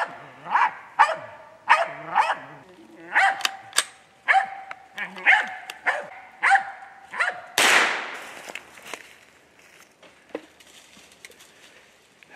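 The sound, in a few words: squirrel hunting dog barking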